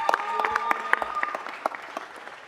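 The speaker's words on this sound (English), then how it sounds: "Let's give him a hand clap for that." Brief applause breaks out at a city council meeting, a room of people clapping quickly and irregularly at moderate distance before the clapping thins out.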